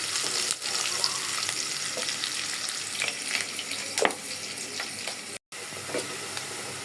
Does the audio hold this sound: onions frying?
yes